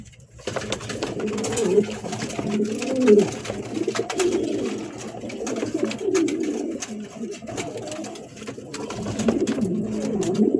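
Caged pigeons coo in a run of soft, throaty, rolling calls that repeat every second or two, close by, over a faint background hum.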